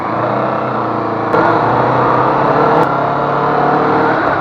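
A Kawasaki Vulcan S motorcycle engine runs close by and rises in revs toward about 4,000 rpm, holding a loud, steady drone with a slight step up in intensity partway through and no talking.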